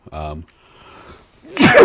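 A single sudden sneeze bursts out near the end, preceded by a brief voiced sound and quiet background.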